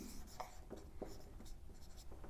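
Chalk or marker strokes on a classroom board while a chemistry example is written out during a lecture, a series of short scratchy taps and scrapes spaced unevenly, fairly quiet, with no talking.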